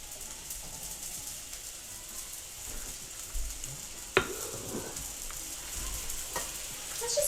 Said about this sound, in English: So I'm going to take the meat out, saute the vegetables. Or not saute, grill the vegetables.